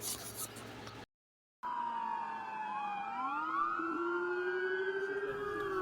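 Police car sirens wail from a played recording, rising and falling in long overlapping sweeps after a brief gap of silence, loud and steady with traffic rumble underneath.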